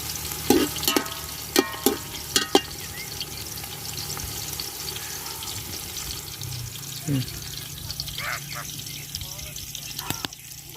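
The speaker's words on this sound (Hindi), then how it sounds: "प्याज हमारा ब्राउन होना शुरू हो गया है। इसको तब तक भूनेंगे जब तक ये गोल्डन नहीं हो जाता।" Onions browning toward golden in a pan fry with a steady, low sizzle, broken by several sharp spoon clinks and stirring scrapes against the pan, while a voice speaks briefly now and then.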